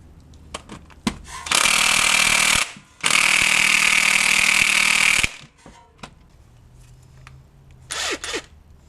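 A pneumatic-style impact gun hammers at a Honda crank pulley bolt with a 19 mm socket, in two loud sustained rattling bursts of about two and three seconds. A brief shorter burst follows later, with quiet workshop clatter in between.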